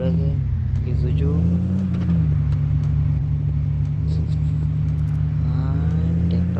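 Mahindra Thar engine in the Indian Car Simulator 3D video game, a steady low drone with shifting revs, loud and continuous, with a voice talking over it.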